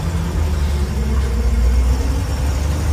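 The engine of a 1976 Toyota FJ43 Land Cruiser rumbles low and steady while driving, a constant close drone with no talking.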